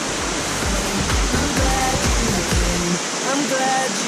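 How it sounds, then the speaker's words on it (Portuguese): The Salto Escondido waterfall roars as a dense, steady rush of falling water, loud and continuous, with low thumping noises in the first few seconds. "chegamos aqui na cascata do Salto Escondido"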